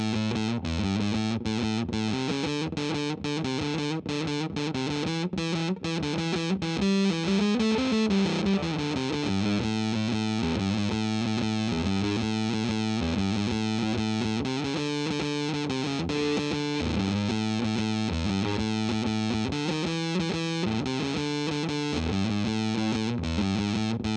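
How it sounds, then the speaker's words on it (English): Bass guitar fitted with electric guitar strings and played through a fuzz pedal into a guitar amp, giving a thick, distorted, continuous riff with steady repeated notes, loud and close throughout with no voices. "let's see what it sounds like with some fuzz"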